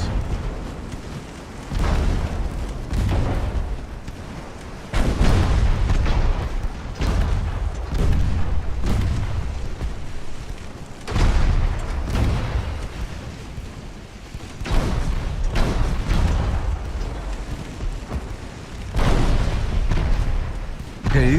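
Naval gunfire from enemy light cruisers in Ultimate Admiral: Dreadnoughts, an 1890s battle at sea. Heavy booms and rumbling blasts repeat every few seconds and sit loud under faint game noise.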